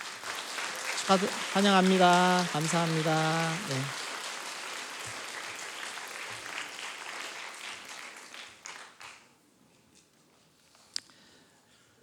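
Church congregation in Daegu applauding visiting pastor and elders from Australia during a Friday dawn service, a broad clapping wash that fades out, with a spoken welcome and thanks over it and brief talk afterward.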